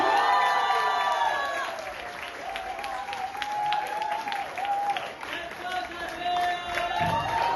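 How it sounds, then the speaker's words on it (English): Audience applauding and cheering at a school stage show, a steady, dense clatter of clapping with scattered whoops that holds for several seconds over a faint tonal background. "I want a loud of applause for him"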